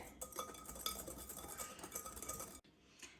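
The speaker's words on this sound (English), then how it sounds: "now we're going to whisk all the dry ingredients together" Dry ingredients with cocoa powder and baking powder being whisked in a bowl, a quick steady run of close metallic clinks and scrapes that stops abruptly near the end.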